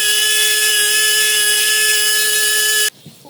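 A high-pitched electric drill whines steadily for about three seconds drilling holes in alabaster beads, then cuts off abruptly, leaving quiet room noise.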